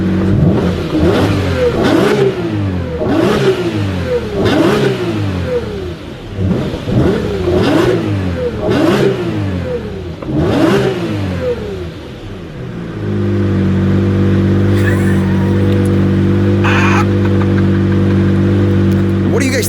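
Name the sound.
Lamborghini Reventon V12 engine revving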